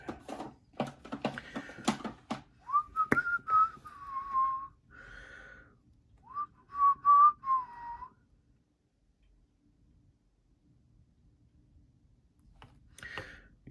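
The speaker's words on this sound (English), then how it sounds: "Yes, I'm whistling." A person whistles a short, wavering tune in two phrases, close by, after some clicking and handling noises from disassembling a Pena X-Series Mula V2 knife; then near silence.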